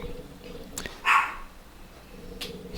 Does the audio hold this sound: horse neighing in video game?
no